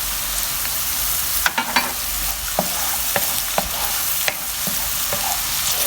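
Garlic, cardamom, cinnamon and cumin fry in a pan, a loud close sizzle with several sharp stirring clatters and scrapes.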